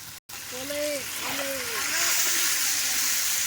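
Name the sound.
chicken meat frying in its own oil over a wood fire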